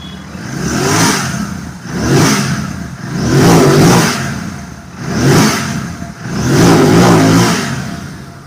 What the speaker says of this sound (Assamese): অলপ ষ্টাৰ্ট কৰি মই দেখাই দিছোঁ শুনাই দিছোঁ চাউণ্ডটো বহুত ধুনীয়া লাগে